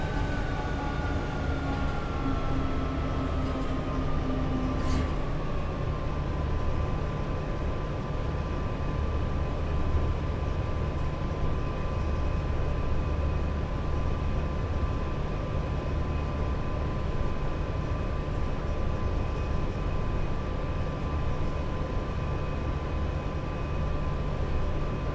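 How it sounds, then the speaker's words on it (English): A Class 87 electric locomotive in Train Sim World 5 gives off a steady high whine with a descending tone early on, over a constant low rumble that continues throughout without pause. "I can hear that whining sound that he was on about."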